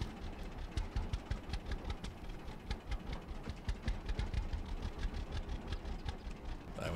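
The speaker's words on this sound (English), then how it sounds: "Park the tractor." A tractor engine in the farming game Farmer's Dynasty idles and chugs with a steady, knocking mid-range rhythm, close and continuous, with no talking over it.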